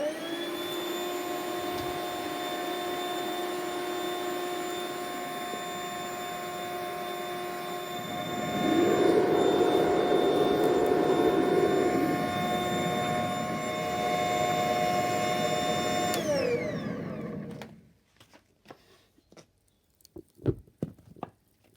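A blower fan heating an aluminium melting furnace whirs loudly with a constant tonal hum, swelling into a rougher roar partway through, then shuts off abruptly, leaving faint clicks and knocks.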